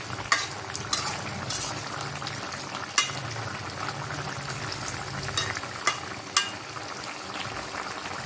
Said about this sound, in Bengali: হালকাভাবে একটু নাড়াচাড়া দিয়ে দেই।